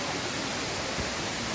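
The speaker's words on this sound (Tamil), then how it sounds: "இதுதான் வந்து கேத்ரின் வாட்டர் ஃபால்ஸ்" Catherine Falls in the Nilgiri hills gives a steady, dense rushing roar of falling water, broad and unbroken throughout the short moment.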